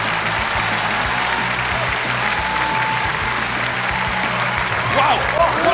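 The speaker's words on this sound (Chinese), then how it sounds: "掌声送给海泉哥" An audience at a live open-mic stand-up comedy show applauds for Haiquan, a dense, sustained burst of clapping from a sizable crowd with a faint voice briefly audible beneath it.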